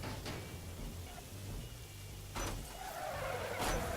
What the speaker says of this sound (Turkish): Evet Dallas'ın üzerinden araba geçiyor şu an.